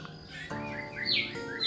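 A caged songbird chirps close by in short bright bursts, quick rising and falling twitters and whistles over a faint background hum.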